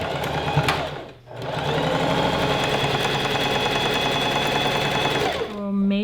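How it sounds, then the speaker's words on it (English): A sewing machine stitches down the top edge of a gathered skirt with pockets. It runs close and loud in one steady, unbroken burst of about four seconds after a brief pause, then stops. "we're just going to sew the top edge down just to hold everything in place"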